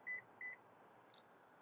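Two short, clear electronic beeps from the power seat warning alarm of a 2024 Lexus TX sound in a quiet cabin, followed by a faint higher chirp.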